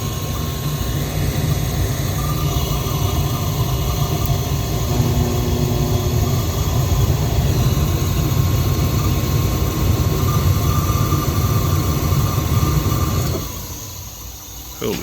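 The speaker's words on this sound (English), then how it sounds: "that inducer motor is definitely not sounding good" A worn inducer motor on a furnace at least thirty years old runs with a loud, steady droning hum and rough whine for most of the stretch, then cuts off and drops to quieter room noise.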